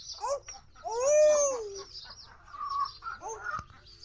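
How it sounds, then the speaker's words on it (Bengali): A chicken clucks and squawks close by in a quiet yard, several rising-and-falling calls with one longer drawn-out squawk in the middle. "মুরগি?"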